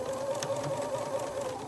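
A sewing machine stitches the curved seam of a fabric face mask, a steady close whirring hum with a faint rapid needle patter throughout, no speech.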